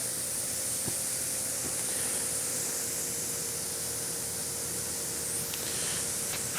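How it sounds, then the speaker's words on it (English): Shallots sweat in about half a teaspoon of butter in a pan, giving a steady soft hiss that continues alone and unbroken, with a faint faraway crackle underneath. "I've put about 1/2 teaspoon of butter right here in the bottom of the pan. We're going to take some shallots, put those in. I'm just going to sweat those down."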